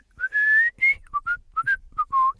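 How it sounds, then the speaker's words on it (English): A clear, near whistled tune stands in for a heart murmur, a string of short and sustained notes rising and falling over a couple of seconds with no talk. "Some people say it's just your heart whistling while it works."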